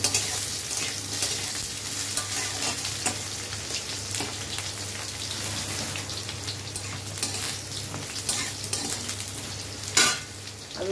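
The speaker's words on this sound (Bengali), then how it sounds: "আলুটা একটু ভাজা ভাজা হয়েছে," Potatoes fry in a pan in a home kitchen, sizzling steadily and continuously, with occasional scrapes and clinks from stirring.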